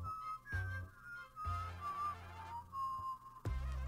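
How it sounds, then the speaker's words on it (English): A sharp whistle carries across water in the video game Heartbound, a long wavering tone that slides and repeats over a low ambient drone with thumping pulses. "A sharp whistle rings out across the water?"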